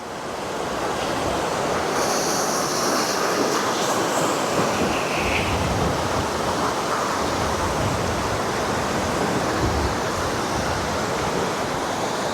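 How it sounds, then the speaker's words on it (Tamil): Floodwater rushes fast past a broken bridge after heavy rain, making a loud, unbroken roar of churning water that fills the whole stretch, close by and steady, with no voices over it. "பார்த்தீங்கன்னா தெரியும் உங்களுக்கு எப்படி தண்ணி வேகமாக போகுதுண்டு."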